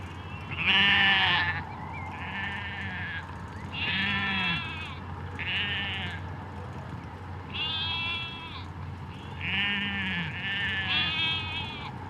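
Sheep bleat repeatedly on rough Icelandic pasture, several calls overlapping at irregular intervals over a low steady background hum.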